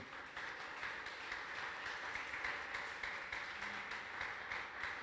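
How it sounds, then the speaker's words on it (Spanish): Congregation applauding during a church sermon, sustained steady clapping from a crowd, fairly distant and even in level throughout. "¿Cuántos pueden darle un aplauso al Señor?"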